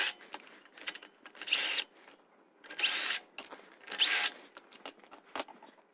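An impact wrench loosening the wheel lug nuts on a Tesla, heard as three sharp, loud bursts of rapid hammering, each lasting about half a second, separated by quieter clicks and handling noises, close up.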